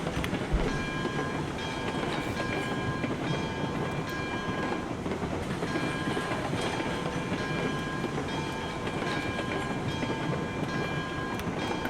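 A train in Railroads Online rolling on rails, a dense, continuous rumble and clatter at steady loudness throughout, with no voices.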